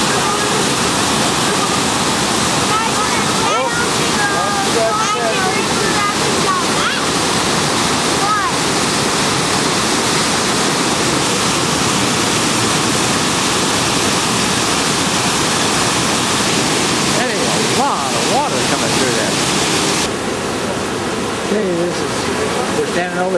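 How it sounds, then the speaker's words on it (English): Loud, continuous roar of a waterfall plunging down into a canyon, heard from above at the top of the falls, a dense unbroken wash of water close by that fills the whole stretch. "We're standing over the top of the waterfall"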